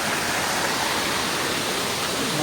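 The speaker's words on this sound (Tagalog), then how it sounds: "Ito pala yung famous na Daranak Falls guys." Daranak Falls pours down in a loud, steady, broadband roar, a constant wash of falling water with no break.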